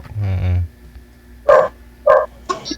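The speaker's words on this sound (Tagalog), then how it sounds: "Aso ng kapitbahay pala yun, ma'am." A neighbour's dog lets out two or three sharp, fairly close barks in quick succession, following a brief low voice at the start.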